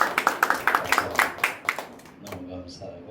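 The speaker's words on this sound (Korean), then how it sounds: "우리 환영의 박수 한번 하시겠어요?" A church congregation's welcoming applause: steady, rhythmic hand claps for about two seconds that quickly die away into quiet room sound.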